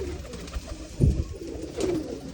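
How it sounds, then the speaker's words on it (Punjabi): A golden pigeon coos in a few low, throaty bursts, with one louder call near the middle. The calls are close by, over faint ambient noise, and no one speaks. "ਆ ਗੋਲਡਨ ਕਬੂਤਰ"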